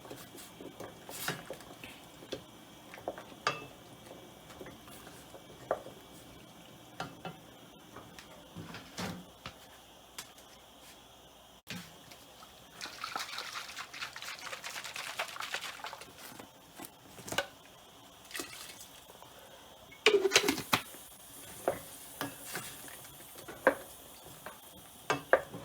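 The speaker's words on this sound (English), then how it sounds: "So now I'll just stir it around." A spoon stirring Jamaican brown stew turkey neck in a thick gravy in a pot, with intermittent scraping and knocking against the pot and a soft bubbling sizzle between strokes.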